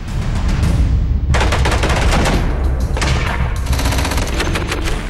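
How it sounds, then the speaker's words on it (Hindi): Rapid gunfire bursts and blasts from the Iraq conflict, loud and close, with machine-gun volleys cracking in dense repeated runs throughout, broken by a brief lull before the firing resumes. "आसमान के रास्ते मौत बरसाते रॉकेट, रह रहकर चलती गोलियां और कदम कदम पर होते धमाके"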